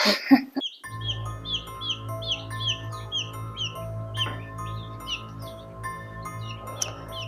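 Baby chicks peep and chirp in a brooder, with many high overlapping calls close by over a steady low hum, following a brief handling noise at the start.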